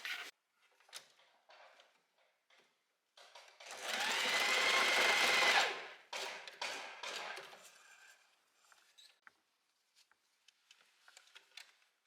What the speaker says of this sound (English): And then we're going to sew the elastic together here